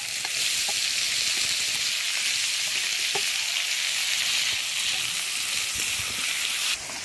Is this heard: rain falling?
no